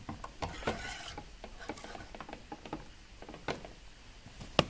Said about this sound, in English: The test tube clamp clamps onto the test tube, and it can also clamp onto something like our ring stand.